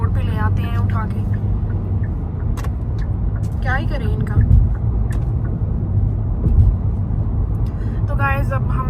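A car drives along the road, a steady close rumble of engine and tyre noise from inside the cabin, with people talking over it throughout.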